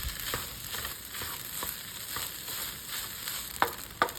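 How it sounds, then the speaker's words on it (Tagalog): Shrimp fried rice with turmeric powder stir-frying in a pan, a quiet steady sizzle with faint scraping stir strokes and a couple of sharper clicks near the end. "Continue lang ang pagluto at saka ihalo lang ng mabuti."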